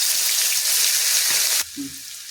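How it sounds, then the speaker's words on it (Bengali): Garlic paste with black cumin seeds hisses loudly in hot oil for a second and a half, then the sizzle abruptly drops to a low simmer with a faint scrape. "রসুন বাটাটা আগে একটু ভালো করে এভাবে ভেজে নিতে হবে।"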